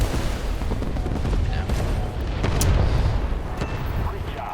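Two 1,000-pound bombs dropped from a T-34 burst in War Thunder, heard as several close, heavy booms and crackling blasts over a dense rumble, with a voice talking over them.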